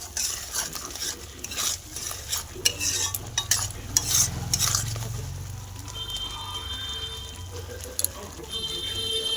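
Masala sautéing in oil, stirred with a spatula that scrapes and clinks against the pan in uneven strokes over a low sizzle, with brief voices in between.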